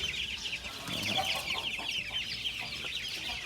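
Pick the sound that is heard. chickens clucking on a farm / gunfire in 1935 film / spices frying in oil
chickens clucking on a farm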